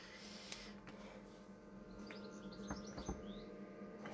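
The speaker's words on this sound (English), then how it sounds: "Oh, can you hear the bird outside?" A bird chirps outside, faint and distant, short high tweets scattered through a steady low room hum and light tapping noises.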